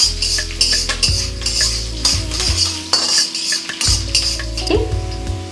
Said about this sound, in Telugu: ఇప్పుడు కరివేపాకు రెబ్బలు కూడా వేసేసుకొని అలా 2 నిమిషాల పాటు అలా వేగనివ్వండి